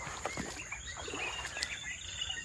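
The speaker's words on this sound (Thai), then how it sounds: "เสียงนกร้องลั่นเลยนี่" Several birds chirping and calling at once over a steady insect drone, an outdoor morning chorus with no talking.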